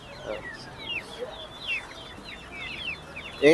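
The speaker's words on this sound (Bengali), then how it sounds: "এটা কি মোরগ মুরগি আছে" Chickens cluck and chirp at a busy poultry market in Tongi, a scatter of short calls near and farther off over constant crowd murmur, with one louder squawk at the end.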